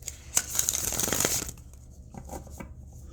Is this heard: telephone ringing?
no